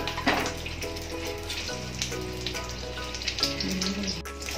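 Stuffed capsicum fries in oil in a wok, giving a steady, close sizzle with light bubbling that runs throughout and has no talk over it.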